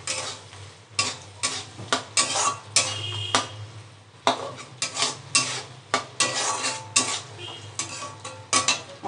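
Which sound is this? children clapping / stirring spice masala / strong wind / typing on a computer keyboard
stirring spice masala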